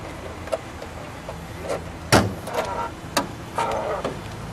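A few separate clunks and thumps of a 1978 Pontiac Trans Am's trunk lid being opened and pulled down, with a louder latch-like clack in the middle, against quiet background noise.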